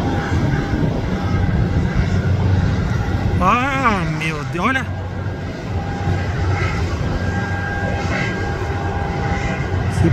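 Boeing 737 MAX arriving to land at Guarulhos airport, its engine roar steady and fairly loud throughout, with a brief whinny-like sound in the middle and voices talking over it.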